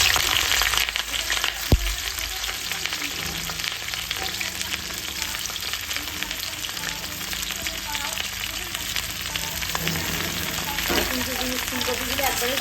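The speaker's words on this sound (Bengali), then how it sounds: "ফুলকপিগুলো হালকা করে একটু ভেজে নেব।" Cauliflower frying in a pan of oil, a loud continuous crackling sizzle held for many seconds with occasional clinks and stirring scrapes of a utensil.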